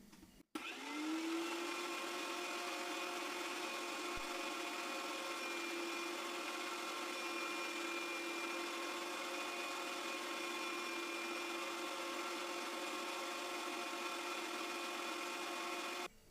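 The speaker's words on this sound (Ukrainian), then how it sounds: "перекручуємо разом з цибулиною на м'ясорубці" An electric meat grinder minces liver together with onion, its motor starting abruptly and then running at a steady, even whine for the whole stretch before cutting off.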